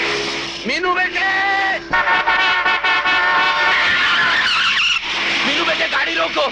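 A car driven fast on a road, with engine roar and squealing tires running through, layered under agitated overlapping voices and dramatic music.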